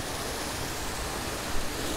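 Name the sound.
small waterfall in Luang Prabang, Laos, dry season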